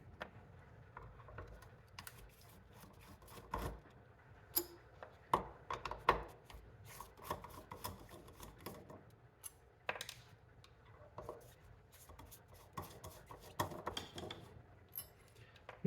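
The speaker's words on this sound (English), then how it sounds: "Then the 5 Phillips screws here." Phillips screws come out of a BMW E31 V12 M70 throttle body: faint, scattered metallic ticks, clinks and small taps of a screwdriver and parts, irregular and close in a quiet room.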